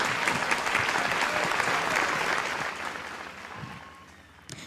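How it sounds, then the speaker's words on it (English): An audience at a stakeholder convening applauds the teachers, with dense, sustained clapping from many people that gradually tapers off toward the end. "let's give the teachers a round of applause for all the work they are doing"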